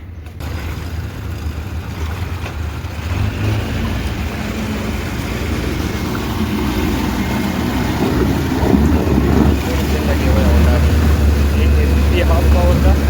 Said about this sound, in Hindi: टोटल 100 हाउस पावर का इंजन है पेट्रोल इंजन